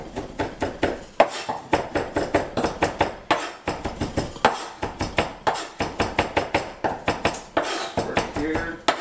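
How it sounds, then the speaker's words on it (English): Rapid, steady knife chops strike a cutting board as garlic is minced for cilantro lime chicken tacos, dozens of close, sharp knocks in a quick, even rhythm with faint talk in the background. "Chop the garlic really good."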